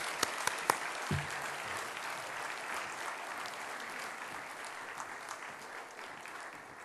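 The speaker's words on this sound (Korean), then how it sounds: "우리 나오실 때 큰 박수로 우리 격려해 주시기 바랍니다" Faint applause from an audience of pastors at a national church fellowship gathering, a steady, distant patter of many hands that continues throughout.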